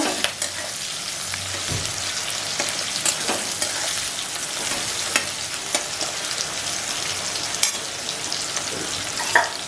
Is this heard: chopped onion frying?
yes